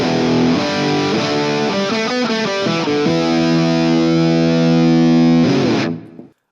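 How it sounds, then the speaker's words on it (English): Thick, meaty distorted electric guitar through a Joyo BAATSIN 8-in-1 overdrive pedal on its O.C.Drive setting, playing sustained chords and a short riff, loud and alone before ringing out and cutting to silence. "last up we have the O.C.Drive setting, and this is a really cool, thick, meaty tone."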